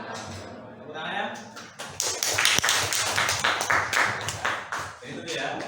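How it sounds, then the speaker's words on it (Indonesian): Classmates in a school classroom clap after a group presentation, with uneven, fairly close hand claps mixed with chatter and voices throughout. "Tepuk tangan ya."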